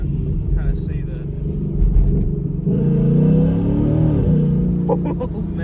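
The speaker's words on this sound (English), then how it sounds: "Dropping the second gear here, you're gonna kind of see that." A 2019 Ford Mustang GT V8 with an X-pipe and muffler delete: deep, throaty exhaust rumbles and swells as the engine revs through second gear, with brief voices talking over it near the start.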